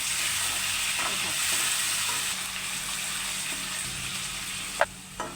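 Soaked masoor lentils sauté in a pan with a steady, close sizzle and light stirring throughout, and a couple of sharp clinks near the end.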